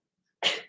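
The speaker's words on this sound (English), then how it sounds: "Let me cough." A single short, sharp cough bursts out after a stretch of silence, close and fairly loud, then fades quickly.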